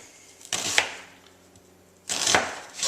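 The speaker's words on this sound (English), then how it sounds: "we are going to slice this as paper thin as we can" A knife slices an onion paper-thin for a sugar-free cucumber onion salad with sour cream and apple cider vinegar. Two crisp, close cutting strokes crunch through on the board with quiet pauses between them.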